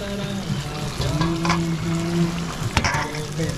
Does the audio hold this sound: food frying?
yes